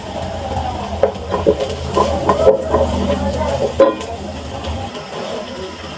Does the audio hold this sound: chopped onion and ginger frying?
yes